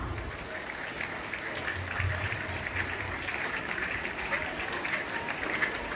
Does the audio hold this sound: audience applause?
yes